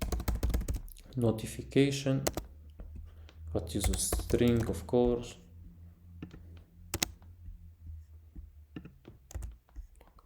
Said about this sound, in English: there is a lot of typing in today's video